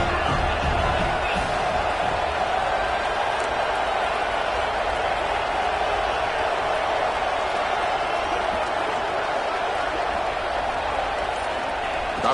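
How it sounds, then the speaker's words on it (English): A dense, steady roar of a large stadium crowd at a football game fills the whole stretch at high volume, with no break or lull. "listen to this crowd noise. This stadium is vibrating."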